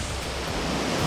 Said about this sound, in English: there is beautiful stream of water